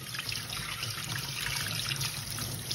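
Cold tap water runs steadily over freshly butchered quail, a soft continuous trickle and splash at a sink with no talking.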